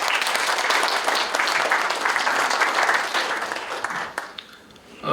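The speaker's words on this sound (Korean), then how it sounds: "함께 박수하시겠습니다" A congregation at a church general assembly worship service bursts into dense, steady applause that holds for several seconds, then fades and trails off into quiet.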